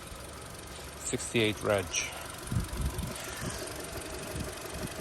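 A 2018 (68-reg) Dacia Duster engine idles with a steady low rumble, close by, while a person talks over it.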